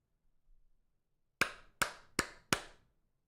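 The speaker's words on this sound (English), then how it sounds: "Oh yeah, we got to do the clapping, right?" Four sharp hand claps, evenly spaced and fairly close, ring out one after another following a faint murmur, then quickly fade into silence.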